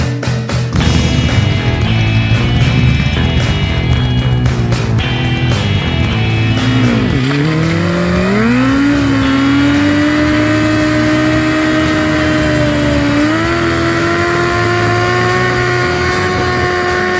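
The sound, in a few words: hot rod car revving during burnouts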